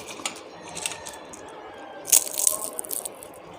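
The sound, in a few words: crunching crispy homemade potato chips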